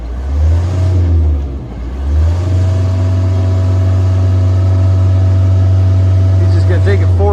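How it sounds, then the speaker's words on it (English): A 1999 JLG 600S boom lift's Deutz diesel engine idles close by, a loud steady low drone that dips briefly and then settles back into a constant hum. "It does have a Deutz diesel motor"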